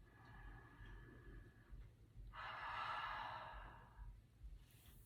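A deep, slow breath drawn and released during a seated hip stretch in a morning mindfulness routine, soft and close with a fuller airy exhale in the middle, no talking.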